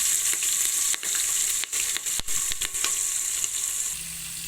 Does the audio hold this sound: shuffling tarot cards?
no